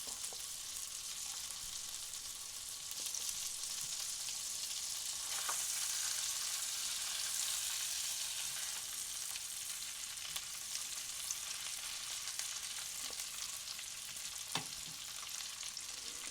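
A Beyond Meat plant-based vegan bratwurst sizzling in a skillet, a steady close hiss of frying with a few faint pops and light clicks scattered through, no talk.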